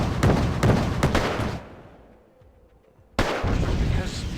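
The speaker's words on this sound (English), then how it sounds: "that machine gun is actually quite good and destroys that thing" Machine gun fire in a video game, dense rapid bursts loud and close, breaking off into near silence for about a second and a half before the heavy firing resumes.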